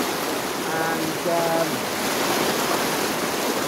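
A waterfall pours as a steady, loud broadband rush of falling water, with a brief faint voice and a few short tonal sounds near the start.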